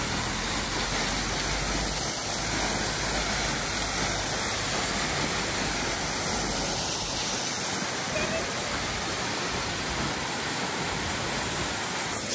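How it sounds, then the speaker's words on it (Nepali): A large roadside waterfall on Siddha Baba road pours continuously, filling the air with a loud, even rushing roar that holds steady throughout without talk. "यहाँ हेर्नुहोस् त बाटोको छेउमा यत्रो ठुलो झर्ना छ यो सिद्ध बाबा रोडमा।"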